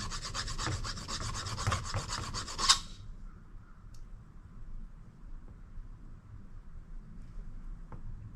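A coating is scraped off a scrap metal item in rapid rasping strokes for under three seconds, then stops abruptly, leaving only quiet room noise with a faint tap or two.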